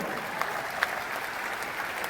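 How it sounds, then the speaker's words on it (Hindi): Applause from a crowd of students at a coaching institute gathering in Patna, honouring a doctor, comes as a brief, soft patter of clapping that sounds fairly distant. "जरा जोरदार ताली इनके लिए भी लगे"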